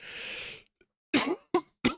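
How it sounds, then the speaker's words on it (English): A short breathy exhale, then three sharp coughs from a person with a head cold, in quick succession, close and fairly loud, with brief silences between. "Excuse me if I cough a lot."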